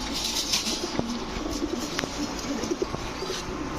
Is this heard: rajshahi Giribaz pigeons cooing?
yes